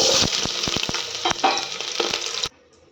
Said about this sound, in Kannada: ಎಣ್ಣೆ ಬಿಸಿಯಾದ ನಂತರ ಸಾಸಿವೆ ಹಾಕೊಳ್ಳೋಣ. ಕರಿಬೇವಿನ ಸೊಪ್ಪು ಮತ್ತು ಈರುಳ್ಳಿ ಹಾಕೊಳ್ಳೋಣ.